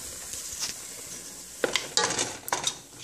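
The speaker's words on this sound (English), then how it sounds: "So I'm just stirring it in" Blended ginger, garlic and onion are stirred into a pot for okra soup, with a spoon scraping and clinking against the metal in a few sharp strokes, near and clear.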